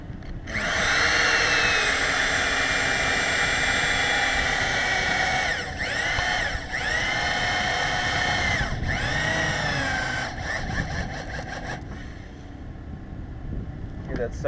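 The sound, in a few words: drill driving lag screw into wall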